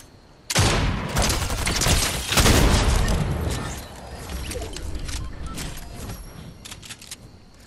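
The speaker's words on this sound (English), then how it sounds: "Why are you shooting at me" Fortnite gunfire rattles in a dense burst of rapid shots and booms, loudest at first and then settling into continued lighter fire with mechanical clatter.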